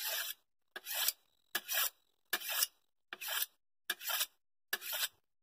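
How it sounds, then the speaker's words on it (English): A kitchen knife drawn across a honing steel, seven even rasping strokes in a steady rhythm, each about half a second long with short silences between, close and clear with no talking. "it's easier to sharpen with just a honing steel. But just go across it a few times"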